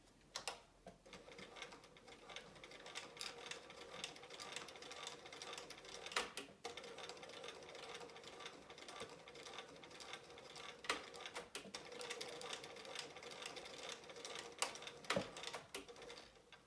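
Sewing machine stitching a fabric keychain wristlet seam, a continuous rapid mechanical whir with ticking needle strokes and brief pauses as it runs back and forth, close and fairly quiet, with no talking.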